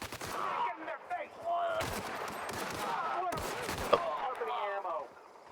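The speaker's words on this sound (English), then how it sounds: "Okay, I fired like 3 bullets." Gunfire in the video game The Outer Worlds, a few sharp shots in quick bursts over a busy, fairly quiet mix of game sounds and talk.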